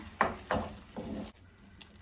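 A utensil scrapes and stirs through a bean dish in a pan, three brief strokes over a low sizzle before the sound drops away.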